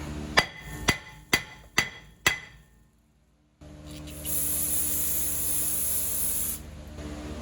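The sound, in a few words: hammering off brake rotors on a 2012 Honda Pilot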